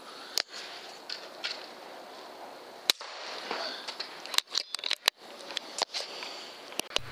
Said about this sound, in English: Once again, proving I'm not perfect, a second shot is needed.